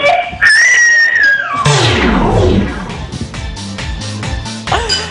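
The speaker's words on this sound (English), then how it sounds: "God, that was like fingers on a chalkboard, that scream, wasn't it?" A piercing, drawn-out scream with a high wavering pitch sweeps downward and breaks into a harsh, noisy wail, loud and close, before fading into lower background chatter.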